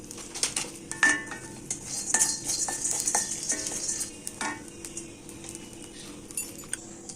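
Seeds dry roasting in a pan for protein laddu, with a utensil scraping and clinking against the metal in irregular bursts, a steady faint rustle underneath, close and moderately loud.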